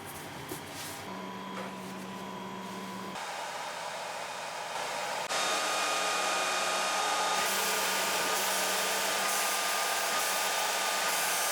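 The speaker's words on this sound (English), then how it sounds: "It cuts the MDF like butter with fast and clean cuts." A 40-watt laser cutter slices through MDF board, giving a steady broadband hiss and hum that grows louder partway through, with exhaust or air-assist noise running continuously and no voices.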